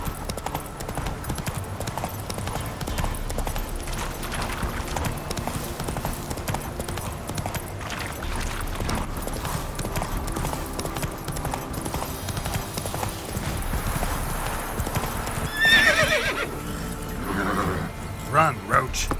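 Roach the horse gallops in The Witcher 3 with a steady, fast clip-clop of hooves and a whinny near the end, while characters talk over the hoofbeats.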